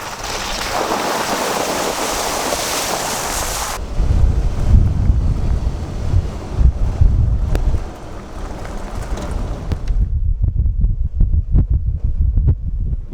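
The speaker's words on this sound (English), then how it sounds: "It is still extremely windy." Strong wind at Alstrom Point, Utah, roaring and buffeting against the microphone in loud, gusty bursts that shift in intensity, with no speech.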